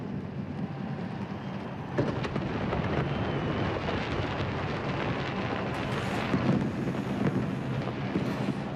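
New Year's fireworks burst over London at the turn of the millennium, a dense, continuous rumble of booming explosions with heavier blasts swelling now and then, heard from a distance.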